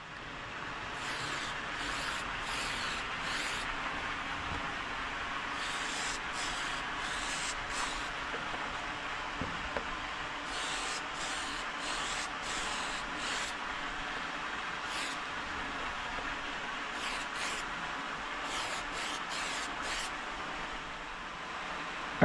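Short bursts of spray paint laying a very light first coat onto a Lexan RC car body, several quick hissing passes in clusters with pauses between, close and fairly steady against a faint background hum.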